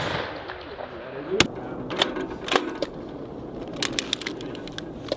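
Sharp gunfire cracks from an M2 Browning or M240 machine gun fired by US Marines at a range, coming as scattered single shots and short bursts over a constant outdoor background, with faint voices in places.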